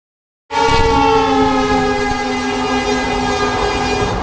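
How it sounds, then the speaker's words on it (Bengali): Train passing at the Pani Tanki railway gate near the India–Nepal border: a loud horn blast begins suddenly and holds steady over the rolling rumble of the wagons, close by, with no talk. "यहाँ पे ट्रेन जा रही है"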